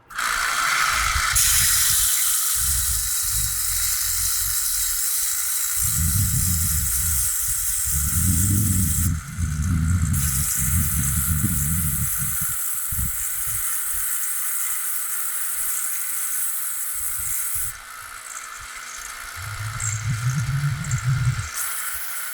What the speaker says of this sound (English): let's go grind it down, sand it down, and see if we can't get it the way we want